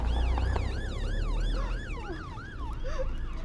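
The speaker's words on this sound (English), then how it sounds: "The ambulance is ready to go" An ambulance siren wails in a steady rising-and-falling cycle, loud and close, then recedes a little toward the end with faint background rumble and no talk.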